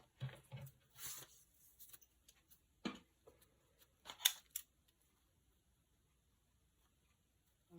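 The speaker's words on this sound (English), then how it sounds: "this one here I'll use my scissors again" Edgy craft scissors snip paper for a collage page in a junk journal, a handful of sharp, separate cuts spaced irregularly over near silence.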